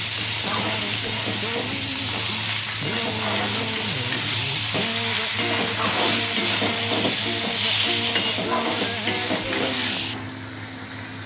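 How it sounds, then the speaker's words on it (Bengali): Taro leaves sauté in a pan with spices, a continuous loud sizzle with rhythmic scraping and stirring strokes throughout, ending abruptly near the end. "এরপর আমাদের কচুর শাক আমরা এর মধ্যে দিয়ে দেবো, দিয়ে আমরা ভালো করে একটু কষিয়ে রান্না করে নেব।"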